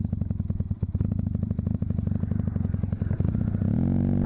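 A Kawasaki KZ400 tracker motorcycle engine runs with a fast, rough, pulsing exhaust beat close by, its idle hanging before dropping to a lower, steadier drone at the end.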